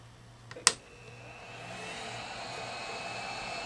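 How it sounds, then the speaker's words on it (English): Blower motor of an electric heat tool whirring steadily after a sharp switch-on click, a faint, even hum rising slightly and holding near the listener with no talk. "And the blower motor is going."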